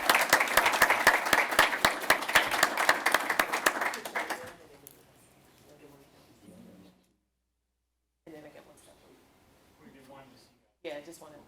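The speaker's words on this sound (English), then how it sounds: "Let's give them another round of applause, please." Applause for school board members at a board of education meeting, a dense burst of clapping for about four seconds that then fades into quiet room noise and scattered murmuring voices.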